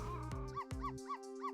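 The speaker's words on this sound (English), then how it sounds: "Dog's gonna bark at the rat." A dog barks at a rat in Ghost Trick: Phantom Detective, a few sharp game-style barks followed by rhythmic repeated yips over steady background music.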